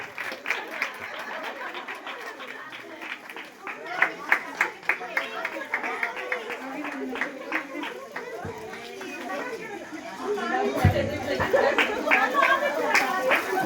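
An audience at a prize-giving ceremony for a musical chairs contest claps in scattered, uneven bursts, blended with crowd chatter and children's voices, the clapping swelling louder near the end.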